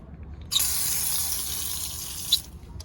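Water sprays steadily from the nozzle of a new expandable garden hose, a bright hissing rush that starts abruptly and runs for about two seconds before cutting off, close and fairly loud.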